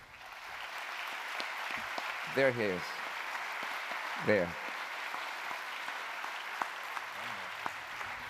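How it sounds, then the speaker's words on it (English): Steady applause fills a conference hall at a presidential session in the Teatro Mediterraneo, continuous and moderately loud, as someone speaks briefly over it twice. "Can we give this guy a big round of applause?"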